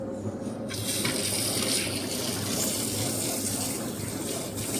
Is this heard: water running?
yes